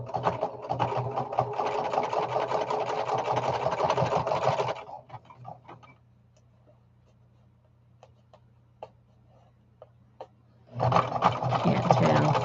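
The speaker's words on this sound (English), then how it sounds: "And then I can go and sew in my signatures." A sewing machine stitches book signatures in a loud steady whir for about five seconds, pauses with only faint ticks over a low hum, then starts running again near the end.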